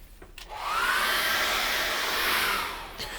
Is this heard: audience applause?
no